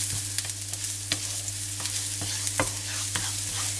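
Chopped garlic sizzles lightly in a few spoonfuls of extra virgin olive oil in a frying pan, with a steady hiss punctuated by regular clicks and scrapes of a utensil stirring it.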